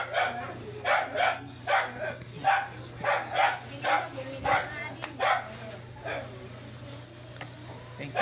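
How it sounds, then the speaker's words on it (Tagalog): A dog barks steadily in a rhythmic series of about a dozen yelping barks, then the barking tapers into softer whining toward the end, heard at moderate distance over a low hum. "At tawag yung aso, naiyak yung aso."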